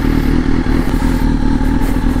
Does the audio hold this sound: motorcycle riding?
yes